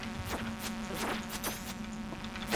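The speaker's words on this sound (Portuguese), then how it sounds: "É um enxame." A swarm of insect enemies buzzing in Stardew Valley, a steady droning hum with overlapping game effects and sharp hits, fairly loud and continuous throughout.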